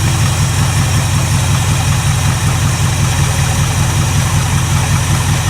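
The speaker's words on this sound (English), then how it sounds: "that is sitting there and idling perfectly" A rusty Ford Mustang barn find, revived after 25 years of sitting, idles loudly and steadily up close, its engine hum unbroken and even throughout with no voices.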